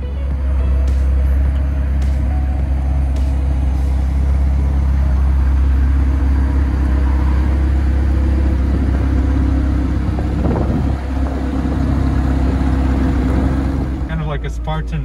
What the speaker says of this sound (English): I will be having a drive in a 720S Spider.